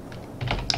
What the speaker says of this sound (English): you can click the tab button on your keyboard, brings up the console, and type in stat space FPS